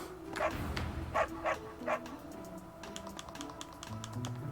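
A dog in the video game Fire Emblem Three Houses barks a few short, sharp times over soft background game music, fairly quiet, with light tapping in the mix.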